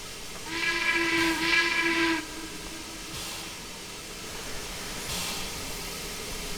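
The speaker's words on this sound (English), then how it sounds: "No secondary whistle from what I can tell. Just a typical whistle." Steam whistle of a Harriman MC-1 2-8-8-2 locomotive in Trainz 2019, a single steady chime blast of about a second and a half, loud and clear over a soft hiss that lingers after it stops.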